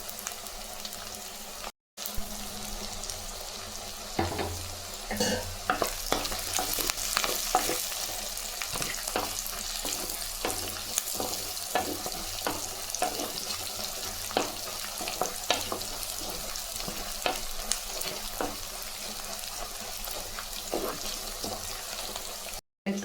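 Garlic, green chili and onion sauté in a pan with curry leaves, giving a steady close sizzle broken by frequent stirring scrapes that carries on for about twenty seconds, with no talking.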